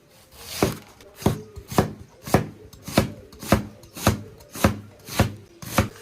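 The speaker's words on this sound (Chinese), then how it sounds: "切点洋葱" A knife chops onion on a cutting board in about ten sharp, evenly spaced strokes, each a crisp close knock against the wood, with no talking.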